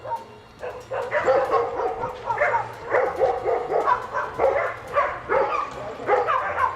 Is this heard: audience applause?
no